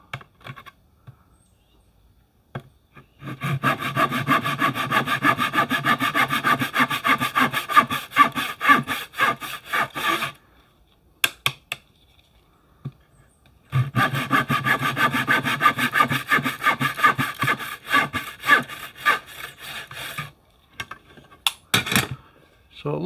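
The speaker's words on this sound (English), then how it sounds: "Then I'm just going to cut a couple little slits right in the middle and then just remove it all." Hand saw cutting small slits into wood while building a cigar box guitar: two long runs of rhythmic back-and-forth rasping strokes, close and fairly loud, separated by a pause with light knocks and handling.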